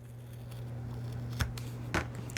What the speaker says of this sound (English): Might be cute to do use zigzag scissors around there